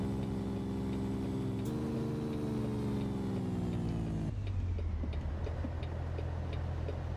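Truck engine from an engine sound pack mod in American Truck Simulator: a faint, even harmonic drone that steps up in pitch, then drops to a lower rumble with light ticking, and no voices.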